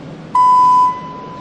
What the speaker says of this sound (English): and at the beep